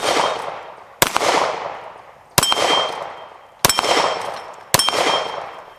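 Four evenly spaced shots from a Sig Sauer P320 M17 9mm pistol with a 4.7-inch barrel, each a sharp, loud crack followed by a long ringing decay, about a second apart.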